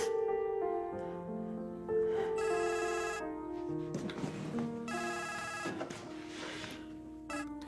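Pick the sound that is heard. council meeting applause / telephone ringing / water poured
telephone ringing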